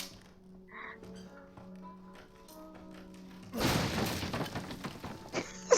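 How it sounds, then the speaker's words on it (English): A wooden box smashes in Resident Evil 7: a loud splintering crash bursts in after a quiet stretch of faint knocks and taps, then a sharp final hit. "I thought that sound of that box smashing was them breaking down the door"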